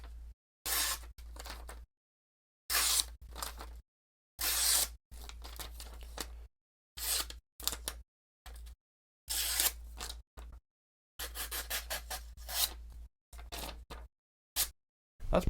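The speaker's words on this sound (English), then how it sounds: "So let's cut some paper." A budget folding knife with a sharp factory edge slices through paper in a string of short, crisp tearing strokes separated by brief silences, close and fairly quiet with no talk.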